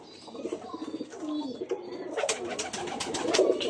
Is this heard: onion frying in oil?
no